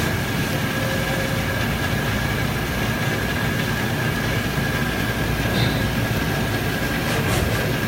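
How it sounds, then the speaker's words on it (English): A machine-shop machine taps holes in a brake bracket, giving a constant loud mechanical roar with a faint steady whine running through it. "It's now tapping the holes in the brake bracket."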